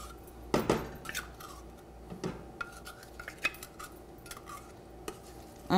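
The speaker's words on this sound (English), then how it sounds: "Just give it a good stir" A spoon stirring a honey, marmalade and mustard glaze in a pan on the stove, giving scattered clinks and scrapes of metal against cookware over a soft, steady background hiss.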